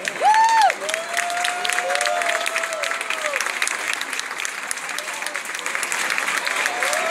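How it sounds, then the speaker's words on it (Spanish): Applause from a crowd at a social dance party after the dance exhibitions, honoring a group of dancers, steady clapping over a few sliding melodic tones from music or a voice in the background. "Fuerte el aplauso también para los alsabaneros"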